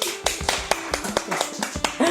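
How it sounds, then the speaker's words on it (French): A few people in a podcast studio clap to welcome a guest, a sparse, uneven patter of hand claps with a low hum underneath. "Les applaudissements, s'il vous plaît."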